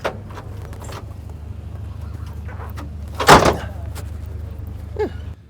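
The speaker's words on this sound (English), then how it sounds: "so heavy that even when the door opens easily, it's quite hard to close" The heavy door of an armoured lorry shuts with a single solid thud midway, preceded by handling clicks, over a steady low engine-like hum.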